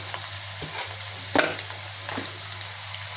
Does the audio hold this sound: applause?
no